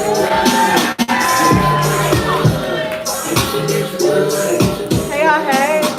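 Open mic poetry crowd whooping and cheering for a poet, loud overlapping shouts and yells rising and falling throughout, close and lively with scattered voices.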